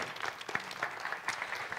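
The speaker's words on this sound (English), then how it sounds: "let's give Oliver a round of applause" A crowd claps steadily in a brief burst of applause, a dense, even patter of many hands with no voices.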